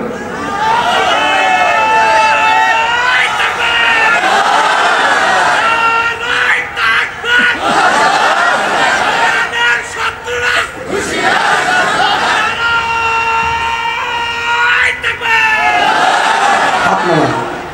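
A large congregation at a Bangla religious sermon roars a loud collective takbir, the massed shouting swelling in several waves that fill the space.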